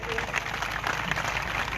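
A crowd applauds steadily at a political rally in Sindh, Pakistan, a dense wash of clapping from many hands that holds at an even level throughout.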